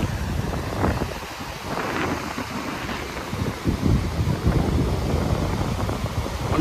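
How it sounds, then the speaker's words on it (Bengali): Big waves surging at Shankarpur beach, a loud continuous rush of surf mixed with heavy wind buffeting the microphone, swelling in a few bursts along the way. "এখানেই দেখতে পাচ্ছ যে কিরকম বড় বড় ঢেউ এখানে হচ্ছে"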